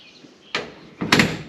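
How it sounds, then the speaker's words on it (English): Two quick door sounds from a Chevrolet Tri-Five sedan delivery, a lighter click followed by a firmer latching thunk about half a second later, close up with no talking. "if you look at these doors, I mean,"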